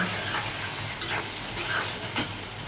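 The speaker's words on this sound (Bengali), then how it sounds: "পালং শাকের পেঁয়াজ ভাজাটা প্রায় হয়ে আসছে।" Onions frying with spinach in a pan, a steady sizzle running throughout, with a few louder scrapes as the mixture is stirred about once a second.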